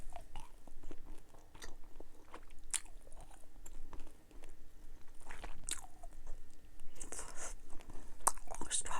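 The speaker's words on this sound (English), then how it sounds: "I'm chewing 60 calories just in these 2 gum balls." Dubble Bubble watermelon and strawberry bubble gum balls are chewed right at the microphone, soft wet smacks and squishes recurring irregularly over a quiet background, with a whispered voice in between.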